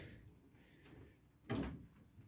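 A shallow metal tool box drawer for ratchets slides and knocks shut with a single solid clunk after a quiet stretch of faint handling noise.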